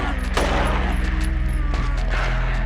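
Rapid gunfire bursts ring out in the PS2 survival horror game Silent Hill 3, firing in quick succession over a dense backdrop of game sound for a couple of seconds.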